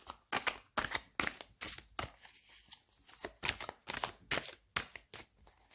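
A Clover Tarot card deck shuffled by hand, quiet rhythmic riffling and slapping of cards in quick repeated bursts, close and alone with no talk.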